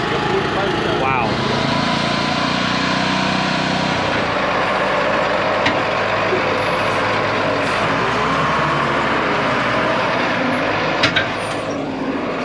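A massive 40,000-pound forklift runs nearby, its loud, steady diesel engine rumble and rattling going on throughout, with occasional hissing and clanks and people talking over it.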